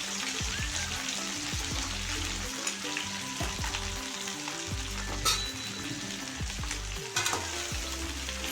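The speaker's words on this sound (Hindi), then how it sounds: "देखिए तेल गरम हो गया, इसमें डाल दे रही हूँ भिंडी।" A kilo of okra frying in hot oil, a continuous close crackling sizzle with repeated clinks and scrapes of stirring, no voices.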